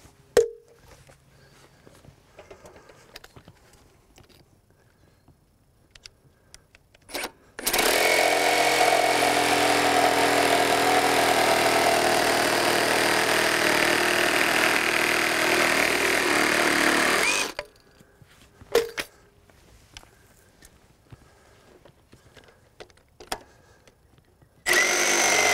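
A cordless reciprocating saw rips through a cut for about ten seconds in one loud, continuous buzzing burst, set between quieter stretches with faint handling noises.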